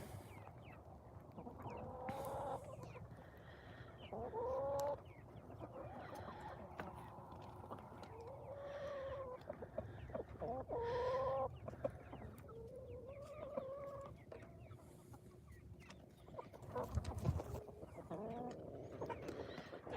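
Backyard chickens clucking by the coop on a homestead, a soft continuous chorus of clucks and short rising calls nearby, fairly quiet and unhurried.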